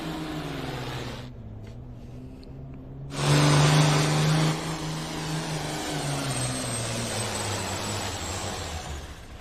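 A Classic Superstock pulling tractor's engine roars loud and steady at a tractor pull in Hanoverton, Ohio, swelling to a harder surge partway through and then holding a sustained, rising drone.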